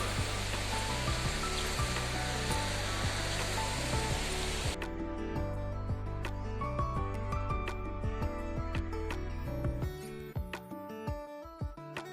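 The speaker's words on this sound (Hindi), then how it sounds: "तो इस झरने की लहरों के छींटे वहां तक नहीं पहुंच पाते, बल्कि इस झरने के नीचे बनी हुई एक गहरी खाई में गिर जाते हैं।" Water falling into a deep gorge below, a steady loud broadband roar that fills the first five seconds, then thins into a rushing wash dotted with sharp splashes and drips.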